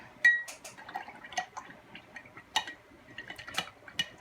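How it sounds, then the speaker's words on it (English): A paintbrush being rinsed in a container of water during a box-crafting session, giving faint, intermittent clinks and small splashes spread through the moment, with no talking. "Rinsing my brush out now in the water."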